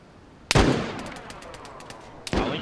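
Two sharp gunshot bursts in the video game DayZ Standalone, one near the start and one near the end, with a rapid rattle of fire and echo trailing between them.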